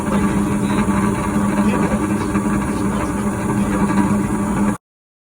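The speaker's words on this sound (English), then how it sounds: "This is the furnace actually that was making all that noise." A loud, steady roaring drone of a malfunctioning, overly noisy home furnace running, constant throughout with a low hum underneath, then cutting off abruptly near the end.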